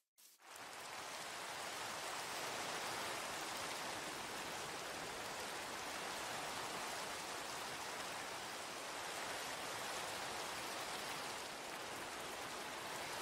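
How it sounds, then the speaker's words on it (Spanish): Acid rain falls in Minecraft as a steady, even wash of rain hiss. It starts almost at once and holds constant, quiet and unbroken, with no voices. "se aproxima una lluvia ácida"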